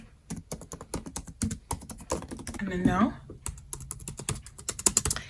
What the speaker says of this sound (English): The way the keys sound, listen.